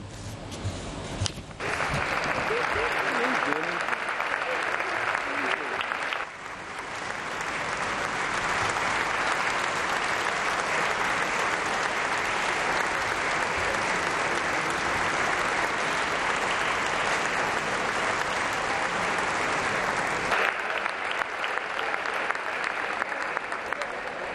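Deputies in the Portuguese Parliament applaud at length, a dense, sustained clapping that fills the chamber for over twenty seconds.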